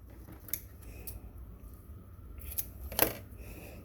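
Scissors snip through fabric for a pumpkin wall hanger, a few close, crisp cuts spaced across a few seconds over a faint steady background, with no voices.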